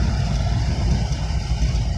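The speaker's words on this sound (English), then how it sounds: "She's idling at a thousand." A 1938 Graham Sharknose car engine idles at about a thousand rpm, a steady low rumbling burble close by with no talking.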